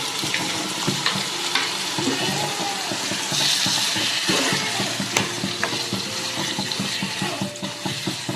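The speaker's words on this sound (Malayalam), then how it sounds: "ഇതിനകത്ത് വിനാഗിരിയാണ് ഒഴിക്കുന്നത്" Vinegar poured into nutmeg rind pickle for a traditional Kerala achaar, a close splashing, gurgling pour with stirring and clinking sounds, uneven and fairly loud, with no talking.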